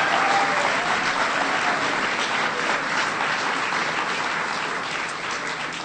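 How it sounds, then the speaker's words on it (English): Rally crowd applauding Senator Dick Durbin at an Illinois political rally, a dense, steady wash of clapping that holds throughout and tapers slightly toward the end, with no voices over it. "Let's have a round of applause for Senator Dick Durbin."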